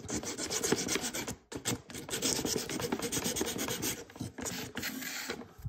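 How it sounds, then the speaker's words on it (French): A file rasps over wood while a wooden pinball machine is being built, giving close, continuous scraping strokes with only brief pauses. "J'ai oublié de limer à un petit endroit, là, on voit"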